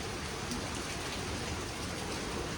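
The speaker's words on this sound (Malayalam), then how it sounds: "മഴ ഉണ്ട് ഗൈസ്" Steady rain pours down as a dense, even hiss throughout, close and uninterrupted, with no voices.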